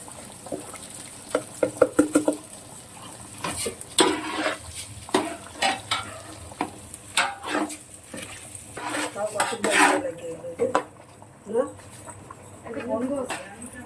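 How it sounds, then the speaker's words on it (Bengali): Ghee-spiced rice is poured into a pan of fried cashews and raisins for a home-style basanti pulao, bringing close clatter and scraping of a utensil against the pan among sizzling, with a person talking between strokes. "চালটা আমি ঢেলে দিচ্ছি"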